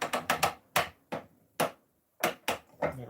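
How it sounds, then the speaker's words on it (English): Sharp metallic clicks and clunks sound in irregular bursts with quiet gaps, close up, like a bench vise being cranked and tightened while holding a flute-making workpiece. "Sorry about the noise from the vise."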